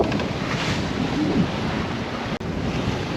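Strong wind and rough sea rush steadily past a sailboat heading toward Gibraltar in 20 to 22 knots, with reefs in the mainsail and genoa; a constant, loud roar of wind on the microphone over waves, with one brief dropout.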